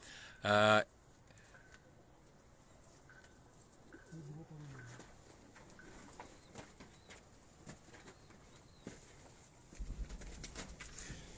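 Two performer pigeons, one golden and one Teddy, sit on a rooftop in Abbottabad, giving soft, faint coos with a rustle of wings amid quiet background voices.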